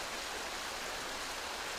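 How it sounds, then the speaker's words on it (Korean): Mountain stream rushing along a valley near Cheongpyeongsa temple, a steady, full broadband water roar that is constant and fairly close, with no voices over it. "계곡을 따라 힘차게 흐르는 물소리에 저도 모르게 마음을 뺏기고 말았습니다."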